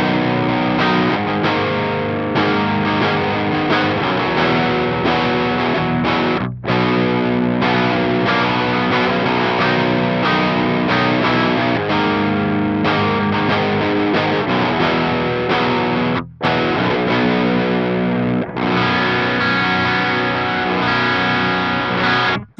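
A Bad Horse overdrive pedal on a guitar pedalboard drives a loud, distorted guitar tone, played steadily with strummed chords and brief gaps near the middle and end, no talking.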